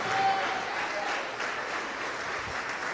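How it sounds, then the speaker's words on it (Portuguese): A church congregation applauding together, a steady wash of many hands clapping in a large hall, sustained and even for several seconds. "E vamos aplaudir ao Senhor por cada vida que está chegando"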